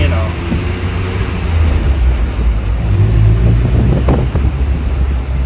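A 1996 Mazda Miata with a manual gearbox, driving with a steady low engine drone and strong wind and road rush that hold loud throughout, with a faint voice now and then.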